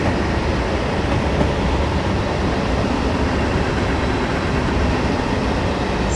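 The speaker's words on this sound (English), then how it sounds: "So let's bring the train to a nice safe stop." A train rolls along rails in a zombie apocalypse video game, a steady, dense rumble and rattle of wheels and wagons, loud and continuous with no pauses or voices.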